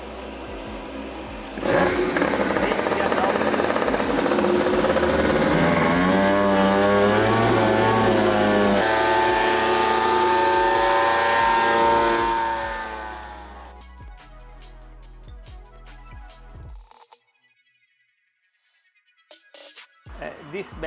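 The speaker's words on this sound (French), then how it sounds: "on retrouve une salle de torture pour mettre à l'épreuve les moteurs et analyser leur performance" Polini electric bike motors run on a factory test bench, a loud steady whine with rising and shifting harmonic tones for about twelve seconds, then fading out and dropping to near silence.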